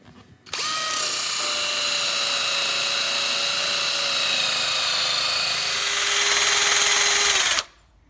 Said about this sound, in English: time to hit it with the wire wheel